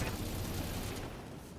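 Missiles firing and exploding in the mech combat video game BattleTech, a dense, loud burst of blasts and rumbling impacts that runs steadily for over a second before tailing off slightly.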